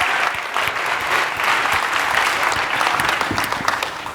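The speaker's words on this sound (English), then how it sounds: "Round of applause." Sustained applause from a keynote audience at a conference, dense and steady from start to finish with no talking over it.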